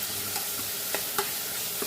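Onion and tomato with cumin and ginger garlic paste sautéing in a pan, a steady soft sizzle with occasional faint scrapes and stirring taps, close and even throughout.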